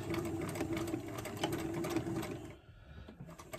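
A sewing machine runs in reverse to sew a back stitch, a steady close mechanical whirr that stops abruptly partway through, leaving a quieter rattle behind.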